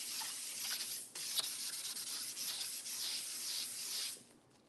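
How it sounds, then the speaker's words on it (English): Sandpaper rubbing over a lacquered tabletop, a steady close scratchy hiss that runs almost without break for about four seconds with one short pause, then tapers off. "so I really do have to sand it."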